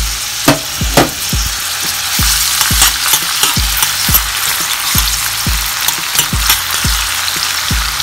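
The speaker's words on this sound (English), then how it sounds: "we're gonna start off by adding the onions and the garlic" Onions and garlic sauté in a pan over medium-low heat for a Galician white bean soup, giving a steady loud sizzle broken by regular stirring scrapes and clacks, heard alone.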